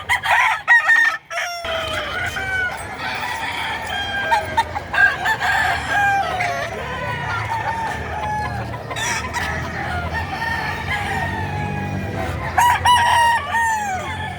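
Chickens and roosters at a livestock market in Padre Garcia, Batangas: several roosters crow repeatedly, some near and some farther off, over constant clucking and busy background din.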